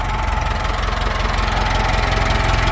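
Ford 6610 tractor with its engine running in reverse gear, a loud, close, steady diesel chug with a fast even pulse and no voices.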